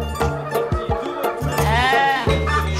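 Livestock, sheep or goats, bleating loudly close by, several overlapping wavering calls in quick succession, one long quavering bleat near the end, with no talk over them.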